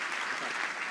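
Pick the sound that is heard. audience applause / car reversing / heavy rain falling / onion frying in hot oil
audience applause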